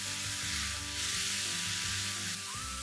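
Peri peri paneer filling with ketchup, coriander and salt cooking in a pan, a steady close sizzle with faint stirring scrapes throughout.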